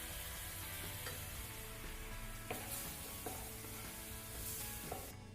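Flour sauce with coconut milk is stirred in a pan, giving a soft, continuous sizzle and bubbling with faint scraping strokes, quiet and close with no talk.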